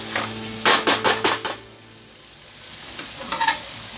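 Chole masala frying in a pan for a Punjabi restaurant-style chole, a steady close sizzle with a burst of five quick scraping stirs early on, then a quieter hiss and a couple more stirs near the end.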